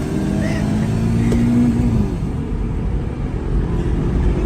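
A 300 hp Honda Civic driven with manual gear shifting, its engine droning loud and steady from inside the cabin, pitch dropping as a gear change comes, with no voices over it.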